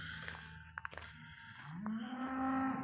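A calf bellows on a foggy farm, with a low drawn-out moo rising at the end, preceded by a few faint clicks and rustles; moderately distant.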